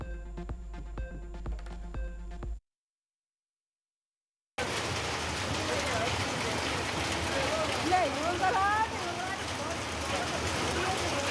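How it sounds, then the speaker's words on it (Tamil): Heavy summer downpour in Pollachi, a dense steady hiss of rain pouring down and running off, close and continuous after a short stretch of music and a gap of silence. "கோவை மாவட்டம் பொள்ளாச்சியில் 3 மணி நேரம் வெளுத்து வாங்கிய கோடை மழை."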